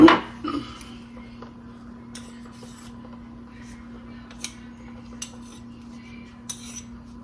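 A metal spoon scrapes and taps beef base off into a cooking pot of water for oxtail dinner, an initial scrape followed by a few sharp clinks against the pot over a steady low hum.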